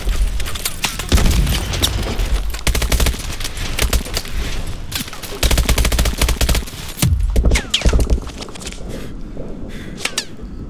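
Call of Duty Advanced Warfare combat with gunfire and a grenade explosion: dense bursts of shots, then loud booming blasts near the middle and later, with sharp cracks and debris trailing off.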